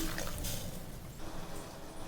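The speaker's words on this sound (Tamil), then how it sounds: "நம்ம இன்னும் ஒரு 1/2 டம்ளர் தண்ணி விட்டுக்கலாம்." About half a tumbler of water trickles and splashes steadily into a pot of rasam, a soft continuous liquid pour with no talking.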